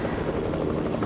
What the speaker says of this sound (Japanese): あのヘリ絶対許さない